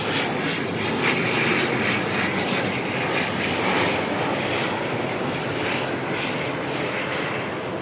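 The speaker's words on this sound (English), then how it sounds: "our next ATR coming in from Nelson, NZ5530" ATR turboprop airliner arriving at Auckland Airport from Nelson, a loud, steady engine drone and rushing roar that swells slightly, heard clearly and continuously without talk.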